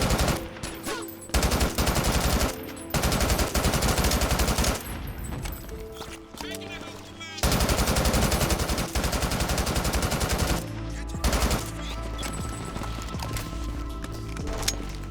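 Rapid automatic gunfire from the multiplayer shooter game Brink, loud dense bursts with brief pauses and a few gaps, continuing through most of the stretch with no talk.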